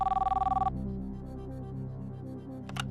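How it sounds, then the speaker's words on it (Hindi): An outgoing telephone call rings on a television quiz show, a loud pulsing electronic ring tone that stops after under a second, leaving a steady low hum, then a short bright electronic blip near the end. "फोन लगाया जाए"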